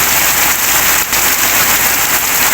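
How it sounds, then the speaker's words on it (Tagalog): Heavy rain pours down in Malaybalay, Engkalbog, a loud, dense, unbroken hiss of water striking surfaces close by, steady throughout. "lakas ng ulan"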